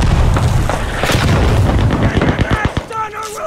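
Field gun and other World War One weapons firing in the video game Beyond The Wire, with repeated booming blasts and sharp shots in a busy battle mix, and a voice speaking underneath.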